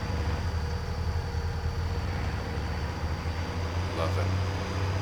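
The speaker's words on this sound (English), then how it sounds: "It's a beastie sounding tractor, this one." A deep, steady engine rumble from a tractor in Farming Simulator 19 hums low and constant, with a voice talking over it.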